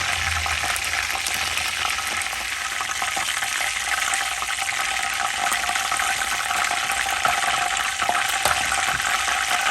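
Chicken pieces fry in spiced oil in a pan, giving a continuous, even hiss and sizzle that stays close and fairly loud throughout.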